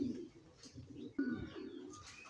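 A female racing pigeon coos in low, soft bursts close by, two or three throaty phrases with faint chirps and no talking.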